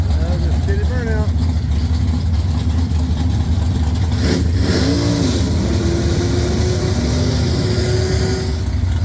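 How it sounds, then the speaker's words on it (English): A drag racing car holds a steady burnout, a loud, sustained engine roar with a constant low drone and tire noise throughout, while a voice talks over it. "Steady burnout."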